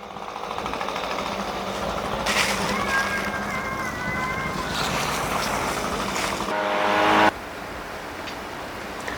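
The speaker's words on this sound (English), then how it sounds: "He has his blower going. He's gonna start blowing for me." Engine-driven leaf blower clearing debris out of a garden, a loud continuous whine and rush with shifting pitch that ends with a sudden drop near the close.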